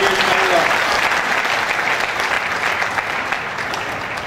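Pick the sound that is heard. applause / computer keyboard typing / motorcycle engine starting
applause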